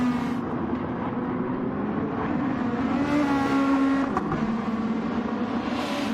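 Touring race car in Track Stars TS2 at the Mount Fuji sprint, a continuous engine drone with shifting revs and gear changes through a corner, close and steady, with no talk over it.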